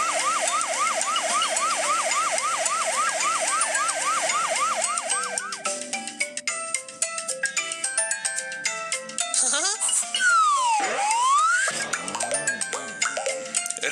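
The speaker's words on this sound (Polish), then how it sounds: "Wóz strażacki." A fast, warbling cartoon fire engine siren cycles repeatedly, then gives way to bright musical tones and a swooping siren wail near the end.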